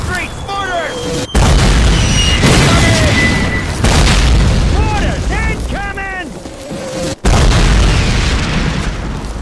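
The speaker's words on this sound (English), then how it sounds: "Mortars incoming!" Mortar shells exploding in Call of Duty during a World War II street fight against German troops, heavy booming blasts with rumbling low end, loud and continuous, with shouted voices and whistling over the top.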